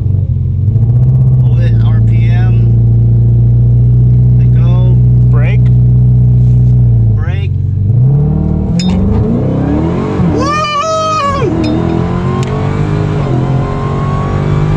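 A 2018 Dodge Challenger SRT Demon on a drag strip roars loudly and close, holding a steady high rev before dropping and launching into a harsh accelerating howl, with people talking briefly over the engine.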